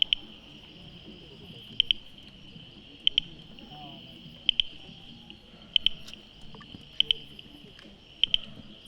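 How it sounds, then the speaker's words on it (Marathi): A Bombay bush frog gives a rapid, typewriter-like clicking series of calls every second or so, like sharp taps, over a steady high insect drone and faint background noise on a Matheran trail. "टाईपरायटरसारखा आवाज येत असतो तो असतो ह्या बॉम्बे बुश फ्रॉकचा"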